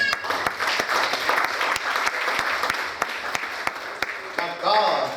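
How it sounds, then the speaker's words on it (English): A church congregation claps their hands during a sermon: steady, dense applause with sharp individual claps throughout, fairly close and loud, with a voice rising briefly near the end. "Shall we clap our hands?"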